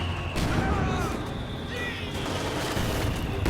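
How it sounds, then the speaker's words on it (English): An AT grenade and a Panzerschreck fire at a half-track in a WWII strategy game, with booming blasts and shots packed over rumbling battle noise and a voice talking. "AT grenade and Panzerschreck working on the half track."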